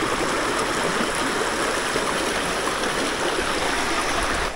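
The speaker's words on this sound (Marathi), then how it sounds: "त्याच्यावरून पाणी नेहमी वाहत असतं जेव्हा पाऊस खूप पडतो." Water flows steadily through a forest stream channel that swells in heavy rain, a dense, continuous rushing close by with no break and no voices.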